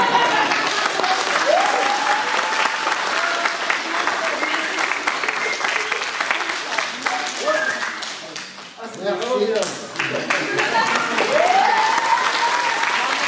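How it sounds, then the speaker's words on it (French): Long, steady audience applause from a crowd at a live event, dense clapping with voices and occasional cheers mixed in, briefly dipping midway before swelling again. "On applaudit Fred."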